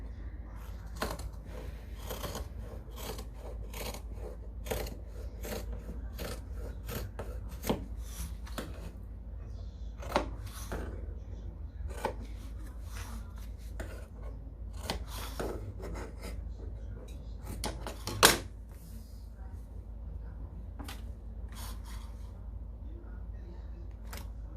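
Scissors trimming fabric while a pouch is sewn: soft, crisp snips at an irregular, unhurried pace, close up and fairly quiet over a faint background hum.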